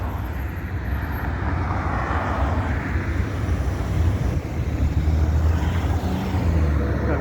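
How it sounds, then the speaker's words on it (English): A jet airliner drones overhead on its landing approach beside Sunset Road in Las Vegas, a steady low roar mixed with wind and passing street traffic. "This jet in for a landing."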